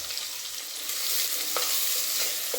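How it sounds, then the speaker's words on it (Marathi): Sliced onion frying in hot oil in a pan, a steady close sizzle with a few light stirring scrapes, no voices. "आता आपण ह्याच्यामध्ये उभा कापलेला कांदा टाकूया सगळं"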